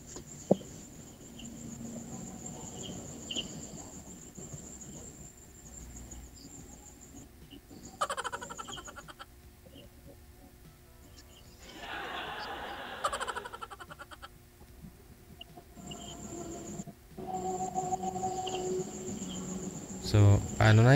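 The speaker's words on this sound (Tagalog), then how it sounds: "Kuliglig na lang yung narinig ko." Crickets chirp steadily at night, a thin continuous trill in the background, while people talk quietly over it in places.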